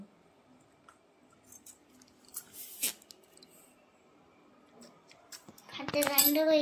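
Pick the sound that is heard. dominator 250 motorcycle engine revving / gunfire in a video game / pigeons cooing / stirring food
stirring food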